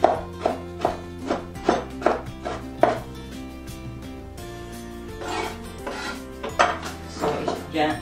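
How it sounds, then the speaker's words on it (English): Leftover nuts chopped with a knife on a board for an apple tart, a series of crisp evenly spaced knocks, then a pause and further irregular chops, close and clear without talk. "Just chop it."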